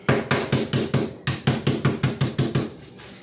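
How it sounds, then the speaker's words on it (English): Sandwich cookies are crushed inside a sealed Ziploc bag, a dozen or so sharp, evenly spaced pounding thumps in a steady rhythm with a brief pause partway through, close and fairly loud. "The fun part is getting to crush them all up into little bitty pieces."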